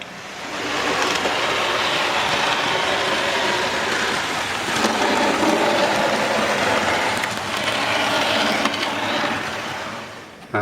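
Model railway Doc Shunter locomotive running along the track, a continuous close rumbling whir with faint rhythmic clatter that holds steady for about ten seconds.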